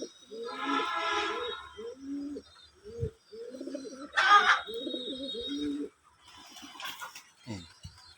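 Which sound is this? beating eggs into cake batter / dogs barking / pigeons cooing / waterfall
pigeons cooing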